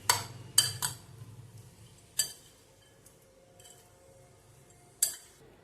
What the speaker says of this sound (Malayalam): എടുത്തു വെച്ചിരിക്കുന്ന ചാറ്റ് മസാലയും ബ്ലാക്ക് സോൾട്ടും കൂടി ചേർത്ത് കൊടുക്കാം. ഒന്നും കൂടി മിക്സ് ചെയ്യാം